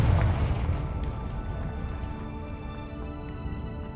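A Confringo blasting spell detonates in Hogwarts Legacy, a loud boom at the start that decays into a long, fading rumble and ringing tail.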